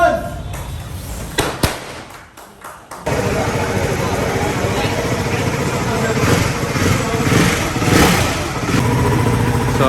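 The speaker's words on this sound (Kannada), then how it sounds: "Hyper ಮೋಟಾರ್ಡ್ 698 mono. ಇದು ಸೌಂಡ್ ಮಾತ್ರ ಸಾಕಾಗಿದೆ" A Ducati Hypermotard 698 Mono, a single-cylinder motorcycle, roars loudly through its exhaust. After a quieter, broken opening it settles into a sustained, close engine drone with rising and falling revs.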